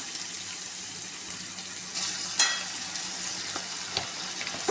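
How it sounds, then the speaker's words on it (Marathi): Ginger garlic paste frying with sautéed onion in a pan for egg biryani, with a dense, steady sizzle close by, punctuated by a couple of brief louder crackles and a spoon scrape, without talk. "कांदा आपला परतवून झालेला आहे त्यामध्ये मी आता अद्रक लसूण पेस्ट टाकतो एक चमचा"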